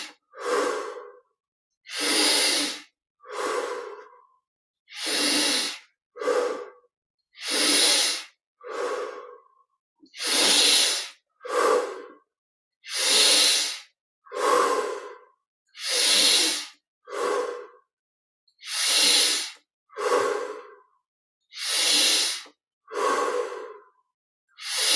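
Slow, deep breathing during a guided yoga exercise, with long loud inhales and exhales alternating in a steady rhythm and near-silent gaps between, heard up close with no talking.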